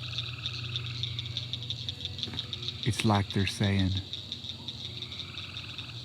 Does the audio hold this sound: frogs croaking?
yes